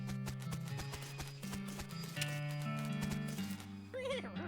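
In the video game West of Loathing, a horse's hooves clip-clop in a quick rhythm over plucked music, and a short whinny rises near the end.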